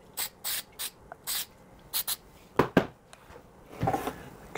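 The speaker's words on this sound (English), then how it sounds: "And I could definitely add a bit of spray glue onto there." Short hissing bursts from a can of spray glue during a van camping ice chest build, several quick sprays in a row followed by rubbing and handling noises, close and with no talk.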